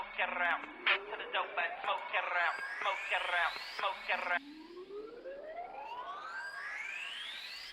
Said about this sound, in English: If you're wondering how these sweep sounds are made, this is basically the most basic version you can get.